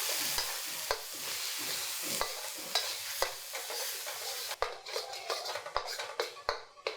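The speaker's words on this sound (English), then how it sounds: "Stir it." Spice paste sizzles and fries in hot oil for an Indonesian chicken opor, a steady close crackle broken by repeated sharp taps and scrapes of stirring that grow sparser toward the end.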